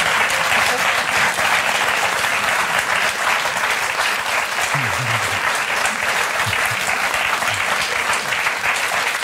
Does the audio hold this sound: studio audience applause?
yes